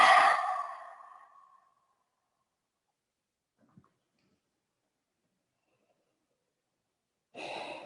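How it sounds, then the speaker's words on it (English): Deep, slow breathing during a yoga stretch: a long audible exhale fading out, a quiet pause with a faint tick, then the next breath starting, close and soft with no talking. "Deepening the breath."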